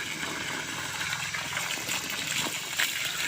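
Water runs and splashes as a skinned rabbit is rinsed, with a steady close-up trickle and gush that swells briefly near the end.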